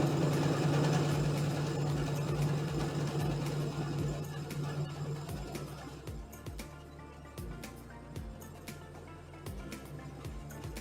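A Brother sewing machine stitching through fabric, a fast steady mechanical whir up close that later breaks into short bursts with pauses between them as the sewing stops and starts.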